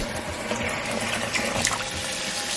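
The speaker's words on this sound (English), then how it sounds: "I'm just filling up the sink with the water" Tap water pours steadily into a sink, a continuous close splashing rush with small bubbling fluctuations, running alone without talk.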